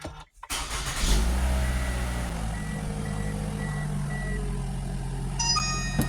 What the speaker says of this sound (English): We're going to start the vehicle, let it run for about 10 seconds